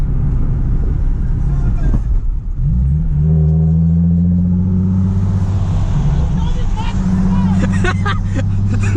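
A Nissan 370Z with a loud aftermarket exhaust revs hard near the listener, its engine drone rising and holding with crackly pops, while voices talk over it.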